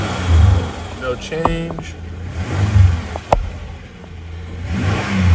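A 1994 Ford Ranger XLT 4x4 pulled from a junkyard idles and is revved in short bursts, the engine rising and falling several times, close and moderately loud, with brief talk in between.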